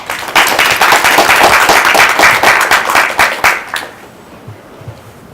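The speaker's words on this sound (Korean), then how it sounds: "그러면은 다음 에피소드를 여러분의 큰 박수로 청해 듣겠습니다." Loud, close audience applause at a career mentoring talk, brisk crowd clapping that fills the room for about three and a half seconds before stopping abruptly, followed by quiet room tone.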